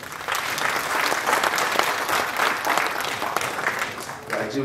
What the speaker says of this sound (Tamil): எல்லாரும் பலத்துக்கு கரகோஷம் கொடுங்க அவங்களுக்கு